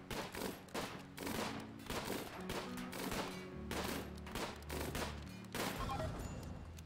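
Gunfire in the colony sim RimWorld, continuous overlapping bursts of rapid shots, loud and dense with short gaps between volleys, over a low rumbling background.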